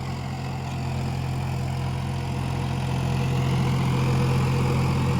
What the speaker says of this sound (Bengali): জন ডিয়ার 50-50D গিয়ার পুরো 72 ফাল বেঙ্গল রোটারে এরকম চলছে।